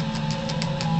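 Electric guitar chords from a song, strummed together as a sustained, steady ringing chord with soft repeated upper attacks and no voices.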